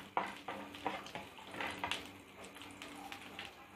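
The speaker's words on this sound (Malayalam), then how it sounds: "അണ്ടിപ്പരിപ്പ് ഒന്ന് ഫ്രൈ ആയി വന്നിട്ടുണ്ട്" Chopped cashew nuts frying in ghee in a pan, with a soft steady sizzle broken by repeated scraping and stirring clatters at a moderate, close level.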